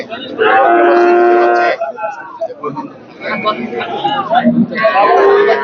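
Calves mooing loudly and close at a cattle market in Horjotpur, long drawn-out bellows with a pause in between, while people talk and chatter around them.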